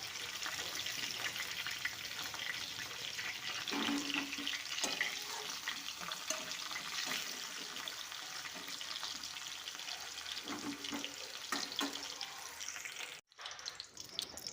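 Young jackfruit pieces fry in a pan with a steady, soft sizzle, punctuated by occasional stirring clatter, brief and fairly close, with a short dropout near the end.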